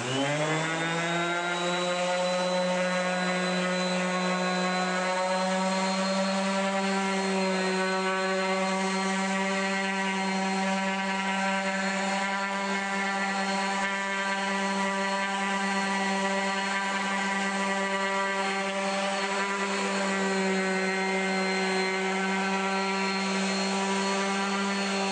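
A Bosch GEX125 1AE random orbit palm sander runs steadily on its own, a loud continuous motor whine with a strong buzzing hum that holds unchanged throughout.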